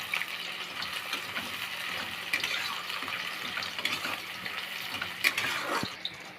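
Sliced onions, bay leaf and dried chilli frying in hot oil, a close, continuous crackling sizzle with scattered sharper pops and light stirring clatter throughout.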